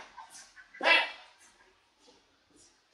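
Puppies in a Vietnamese home kennel area make short yips and a louder whimpering burst near the middle, with faint whines around it.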